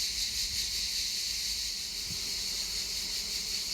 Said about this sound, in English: let you hear the buzzing noise. It's amazing if you can hear it above the sound of the crickets